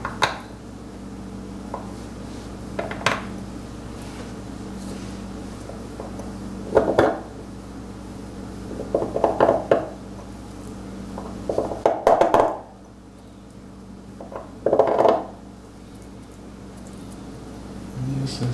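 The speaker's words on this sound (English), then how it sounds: "So I carve out the background." Someone hand-carves an artist's name chop with a knife, giving sparse scraping, clicking cuts at irregular intervals under a steady low hum, with a person speaking between strokes.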